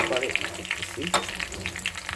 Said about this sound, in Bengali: মাছ দিয়ে দিছি, ভাজতে হতেছে।